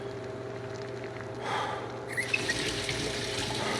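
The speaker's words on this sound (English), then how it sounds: "Then we're going to refill that with water." Water pouring into a soda bottle to refill it in the zombie survival video game Project Zomboid, a steady trickle that swells and splashes midway over a low background hum.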